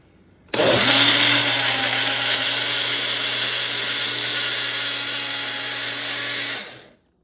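A blender starts abruptly and runs at a steady, loud whir for about six seconds, then cuts off.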